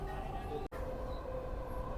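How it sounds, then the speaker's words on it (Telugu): A Dubai Metro train pulls in at Business Bay station, a low, steady mechanical hum and rumble heard fairly quietly throughout the short moment, with one brief dropout. "మెట్రో అయితే వచ్చింది."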